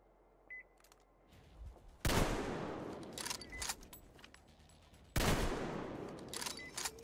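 Gunshots ring out in the video game Metro Exodus: two loud, reverberant blasts a few seconds apart, set over a low game ambience with small clicks and rattles.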